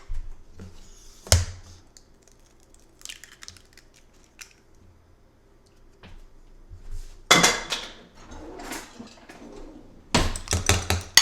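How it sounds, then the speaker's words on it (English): Eggs cracked and whisked in a kitchen while making breakfast pizza: a sharp single crack early on, then quiet handling, followed by two bursts of rapid, clattering whisk strokes against a bowl. "we're going to go ahead and crack a couple eggs"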